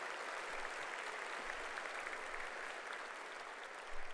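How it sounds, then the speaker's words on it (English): An audience at an awards program applauds for the president, a dense, sustained wash of clapping from a large crowd that holds steady throughout, heard from a distance without any speech. "So please, another round of applause for my boss"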